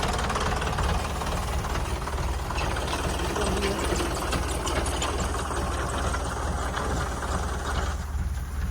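A tractor engine chugs steadily and loudly throughout during crop spraying work with a leaking pump, with a rough knocking rhythm and indistinct voices mixed into the noise.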